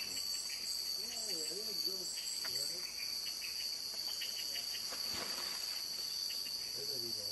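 Crickets chirp in the Borneo jungle as a steady, dense, high trill that runs unbroken throughout, with a few faint calls underneath.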